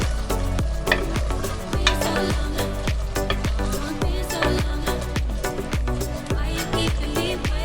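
Whisked yogurt is stirred into a tomato masala in a hot pan over low flame, producing a close, busy sizzle punctuated by a steady run of spoon or spatula knocks against the pan, no voices.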